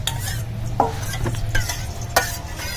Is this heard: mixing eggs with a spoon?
yes